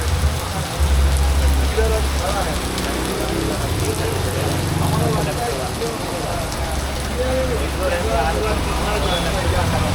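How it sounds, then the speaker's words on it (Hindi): Heavy rain pouring steadily in Pondicherry, a loud continuous hiss with a low traffic rumble beneath, and voices talking over it. "तेज हो गई बारिश।"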